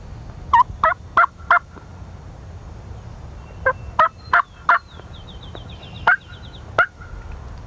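Wild turkey gobbling in the woods in answer to a hunter's call, several loud, rattling gobbles in quick bursts with pauses between them, fairly close and clear over a quiet background.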